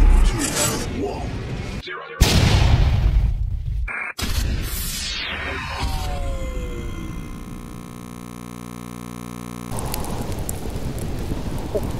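Rain and rolling thunder in the survival video game Subsistence, with cracking booms and heavy downpour in abrupt, edited segments, followed by a quieter stretch of steady tonal ambience.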